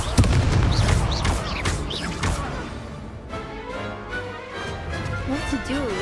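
The Confringo blasting spell goes off in Hogwarts Legacy on Xbox Series X as a sharp, loud blast right at the start. Game voices and whooshing magic effects follow.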